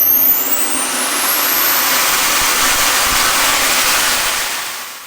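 A Swiwin SW80 miniature turbine engine spools up from idle to full throttle, its whine rising steeply in pitch into a loud, steady roaring hiss that fades slightly at the end.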